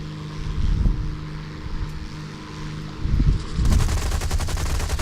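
Aircraft machine guns firing in War Thunder, bursts of rapid rattling over a droning engine, with a sustained, dense stream of fire in the final seconds; no voices.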